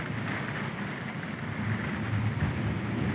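Heavy monsoon rain pours steadily on Mahendragiri peak, a dense continuous hiss with low rumbling underneath, loud and unbroken throughout with no voices.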